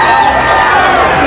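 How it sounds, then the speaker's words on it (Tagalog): Loud, dense crowd noise from Australian spectators cheering and shouting for a Filipino boxer's performance, a sustained roar of voices with no pause across the short stretch. "Hiyawan ng mga tao sa bansang Australia"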